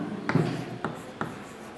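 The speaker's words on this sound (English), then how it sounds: "I'm going to write them here." Marker or chalk strokes on a classroom board, three short scratchy bursts in quick succession, close and fairly quiet.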